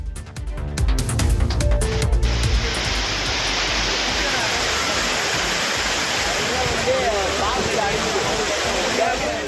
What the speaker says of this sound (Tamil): குற்றால அருவிகளில் வெள்ளியை உருக்கியது போல ஜில்லென்று தண்ணீர் ஆர்ப்பரித்து கொட்டுகிறது